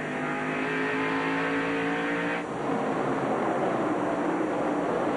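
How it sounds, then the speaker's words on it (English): NASCAR Busch Series stock cars racing at IRP in 1995 roar past in a loud, continuous engine drone, shifting sharply in pitch midway as the pack sweeps by. "There's Joe Bessie's car number 9, the Delco Remy America machine"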